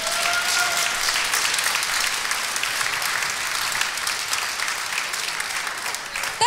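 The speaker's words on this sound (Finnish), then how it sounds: "Annetaan hänelle vielä raikuvat aplodit myöskin." Sustained loud applause from an audience at a combat-sports fight event, dense steady clapping that continues throughout without speech.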